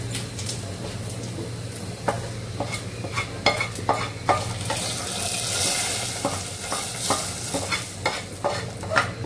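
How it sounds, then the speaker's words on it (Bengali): Lentils frying in hot mustard oil in a kitchen, with repeated scraping strokes of a spoon stirring the pan over a constant sizzle, alone and close. "ডাল তেলে দিয়ে দিচ্ছে। সরিষার তেল,"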